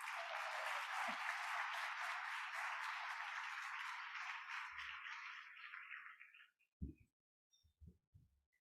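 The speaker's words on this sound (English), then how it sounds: "A round of applause for Minister Ng." Sustained applause from a dinner crowd at a gala for a minister, loud and steady for about six seconds before fading into a few scattered thumps and handling noises.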